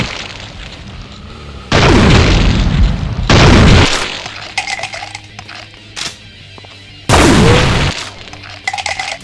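Blasts from a multi-barrel shotgun fired by a sergeant variant enemy in a Doom mod: three loud, booming shots spaced a few seconds apart, each with a short decaying tail, between quieter game ambience.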